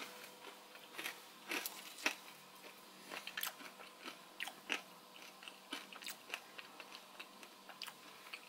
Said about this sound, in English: we've got some tangy, garlicky, rosemary oven-baked potatoes that are very crunchy